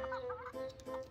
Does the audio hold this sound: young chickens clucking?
yes